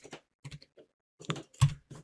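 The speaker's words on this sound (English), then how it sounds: "Hit tab on the keyboard." Several separate computer keyboard key presses come in short irregular clusters in a quiet room, crisp and close, with silence between.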